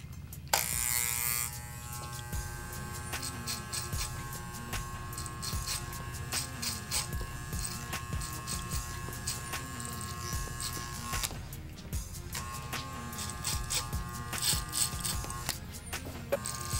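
Electric hair clippers with a number 2 guard buzz steadily at close range while cutting an undercut, moving straight up the head, with brief pauses and small changes in tone as the blade lifts and returns.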